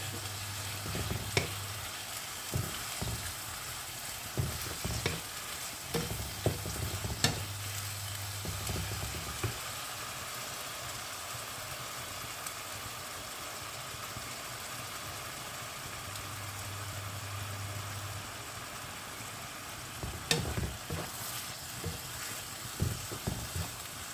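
Liquid boils in a pot with a steady, close bubbling hiss. Occasional louder pops break through, and stretches of a low hum sit underneath.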